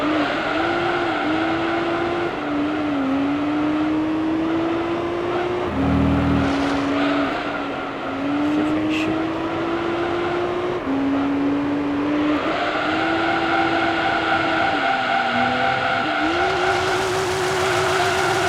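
Nissan engine in Gran Turismo 3 held at high revs while drifting, a steady loud drone that rises and dips with gear changes and throttle lifts, with tire squeal layered over it throughout.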